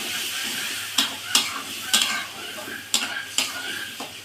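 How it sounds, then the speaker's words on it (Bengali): A ground paste of nigella seeds, cumin and green chili, thinned with a little water, sizzles softly in a pan for a light hilsa fish curry. About half a dozen sharp utensil taps and clinks punctuate the low frying, with no talking. "কালো জিরে, জিরে আর কাঁচা লঙ্কা বেটে রেখেছিলাম, এই মশলার মিক্সটা আমি এখন একসঙ্গে দিয়ে দেব।"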